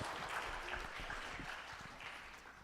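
Audience applause after an introduction at a talk on agroclimatic indicators, a continuous wash of many clapping hands at moderate loudness that slowly fades toward the end.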